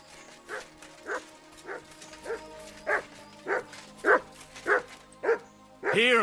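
A dog barks in the video game Kingdom Come: Deliverance 2, giving about ten evenly spaced barks at moderate loudness. The final bark comes louder and longer.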